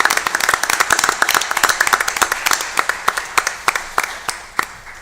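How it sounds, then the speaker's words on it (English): Audience applause at a school board of education meeting, sharp individual claps from a modest group, starting dense and thinning out to scattered claps toward the end, fairly close. "now we can applaud, so congratulations"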